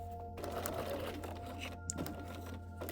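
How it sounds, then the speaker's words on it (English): Domestic sewing machine stitching fabric around a garment pattern piece, a steady close whirring motor hum with rapid needle chatter running continuously, with brief pauses. "I'm going to take it to the sewing machine and stitch all the way around over here"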